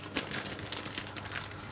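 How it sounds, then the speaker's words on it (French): Aluminium foil crinkles over a dish of lasagne topped with gruyère, giving a soft, close, continuous crackle with small irregular crisp bursts and no voices. "et vous le recouvrez de papier aluminium"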